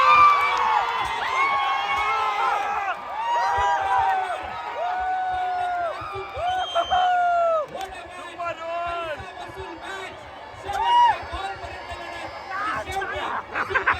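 Cricket crowd at the Anandwadi Champion Trophy final day, clapping, cheering and shouting before the last ball, a dense steady roar of many voices with children's shouts and scattered whistles, rising in a burst near the end.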